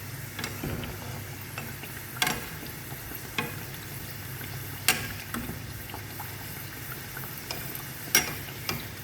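A puffy snack stuffed with lentil, mint and coriander filling fries in a little oil, giving a steady low sizzle broken by occasional sharp utensil clicks and stirring scrapes.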